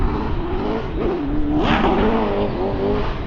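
A V12 engine fitted with 180-degree crossover exhaust headers revs loudly and close up, its pitch rising and falling through several quick blips over a steady raspy drone.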